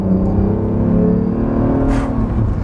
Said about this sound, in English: you can hear the whistle and the blow-off valve actually occurring each time you press the gas